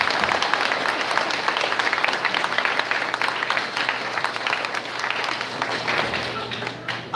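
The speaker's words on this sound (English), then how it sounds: "if we could get a clap, a round of applause for those guys" An audience at a Northwestern IMPACT event applauds steadily for the tech booth crew, a dense, even wash of many hands clapping that holds for several seconds before tapering slightly at the end.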